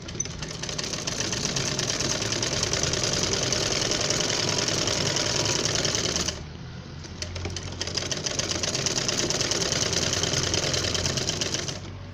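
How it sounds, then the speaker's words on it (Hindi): Sewing machine stitching fabric for a ruffled baby frock: a steady, close mechanical whir of rapid needle strokes that stops briefly midway and then resumes, with no talking. "फिर इस पर सिलाई करें।"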